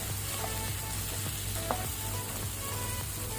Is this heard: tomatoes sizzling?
yes